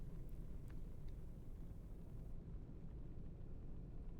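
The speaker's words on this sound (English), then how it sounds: "I love the sound of the car as well" A taxi's engine in the game Taxi Life, heard from inside the cabin as a low, steady droning rumble that stays constant and fairly quiet, with no talk over it.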